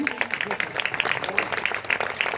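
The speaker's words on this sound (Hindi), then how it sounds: "वाह ठोको ताली।" Audience at a Hindi comedy poetry recital breaks into steady, dense clapping, a continuous patter of hand claps lasting the whole moment at moderate volume.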